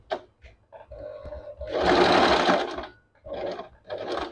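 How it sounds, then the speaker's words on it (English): Sewing machine stitching a hair weft, slowly at first with short bursts, then a loud sustained run of stitching, followed by two more brief bursts close up. "You start sewing, but make sure that you are sewing slowly, not too fast"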